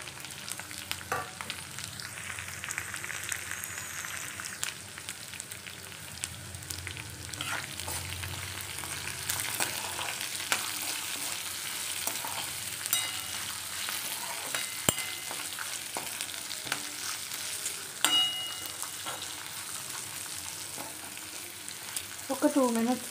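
Okra frying in a pan with cumin powder, salt, chilli and turmeric, a steady close sizzle with occasional stirring scrapes and clinks throughout.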